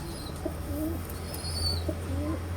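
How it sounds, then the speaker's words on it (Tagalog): Young pigeons (squabs) give soft, repeated coos and faint chirps in a loft, with a steady low hum underneath. "Yung mga inakay talagang ganito maingay eh"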